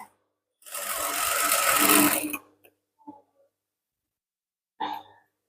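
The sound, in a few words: sewing machine stitching a gown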